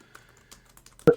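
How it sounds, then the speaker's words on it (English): Several light clicks of typing on a computer keyboard, sparse and quiet, ending with one louder key press. "I'm typing into ChatGPT as well."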